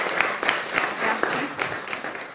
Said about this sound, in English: Can we give Madam Sheila another clap?